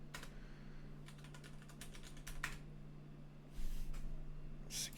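Fingers tap a computer keyboard while entering a password during a Windows 10 setup, with quick clustered keystrokes and short pauses over a steady low electrical hum.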